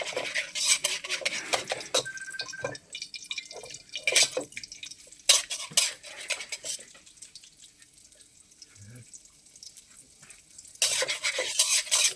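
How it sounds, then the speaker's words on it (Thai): Sticky rice frying in a pan and being stirred often, with repeated scraping and clinking of a utensil against the pan over a soft sizzle, loud bursts alternating with quieter stretches. "ต้องขยับบ่อยๆเพราะว่า มันจะติดกระทะ เราทอดเริ่มได้ที่นะคะ"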